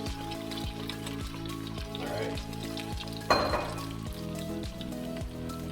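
Mongolian beef and its juices sizzle hard in a hot pan, a loud continuous frying hiss broken by a few stirring scrapes and one sharper splash partway through, with a steady hum beneath.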